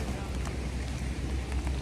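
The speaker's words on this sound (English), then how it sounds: "First bit of rain" Light rain starting to patter on a tent outdoors, a steady soft hiss of drops with faint low rumble throughout, quiet and close.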